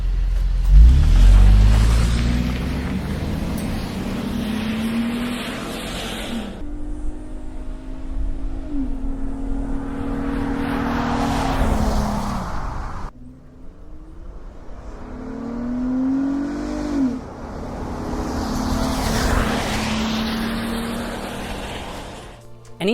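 A Toyota 4Runner fitted with an S&B cold air intake drives past outside, its engine note swelling as it approaches and fading as it goes, with two passes in a row and no talking.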